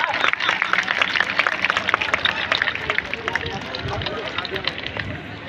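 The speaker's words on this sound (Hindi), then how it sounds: "जोरदार तालियां भाई" Crowd applause at an International Yoga Day gathering, dense and sustained clapping from many people, loud and close, with a voice and crowd chatter mixed in before the clapping thins toward the end.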